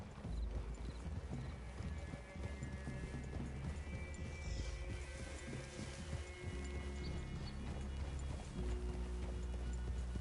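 Horses' hooves clip-clop steadily at a walk through a forest clearing in Red Dead Redemption 2, with occasional snorts and a whinny over a dense, continuous game soundscape.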